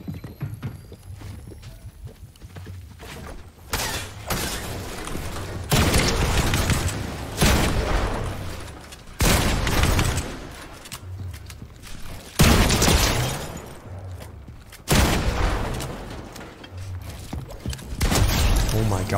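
Pump shotgun blasts in Fortnite, loud broadband bursts recurring every few seconds over continuous game noise, with a voice talking between shots.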